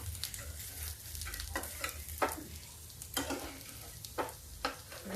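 Sabudana tikki frying in a pan over a low flame: a steady soft sizzle of oil with repeated sharp clinks and scrapes of a spatula, close, with no talking.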